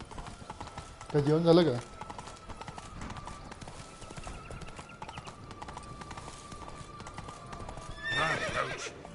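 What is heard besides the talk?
horse Roach galloping in video game The Witcher 3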